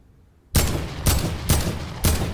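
Four loud, evenly spaced gunshots from a video game firearm ring out close and alone after a moment of near silence, each blast followed by a short decaying tail, during a solo battle-royale season 9 match.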